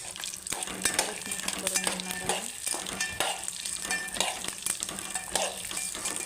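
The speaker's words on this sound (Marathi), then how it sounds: "आपले चांगले शेंगदाणे भाजले" Peanuts roast with a spoonful of oil in a pan for chutney, giving a continuous crackling sizzle broken by repeated close stirring scrapes against the pan, with no voices.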